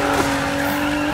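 A car drifts sideways in the Need for Speed racing game, its tires squealing in one sustained, loud whine over the engine.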